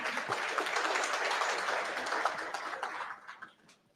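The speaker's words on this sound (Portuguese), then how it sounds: "uma salva de palmas para ele" An audience applauds a neurologist with dense, sustained clapping that fills the space, then thins out and fades over the final second.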